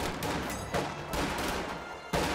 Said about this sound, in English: these guys are still shooting into the building